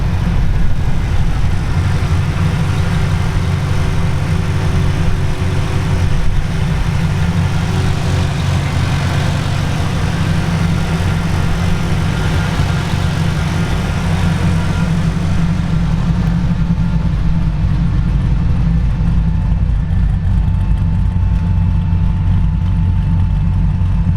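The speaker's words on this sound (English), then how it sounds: "we're gonna fire up this LS7 for you" A 7.0-liter LS7 V8 in a 1940 Ford Deluxe convertible resto-rod idles steadily, with a loud, deep low-end rumble. No one speaks, and the engine note eases slightly toward the end.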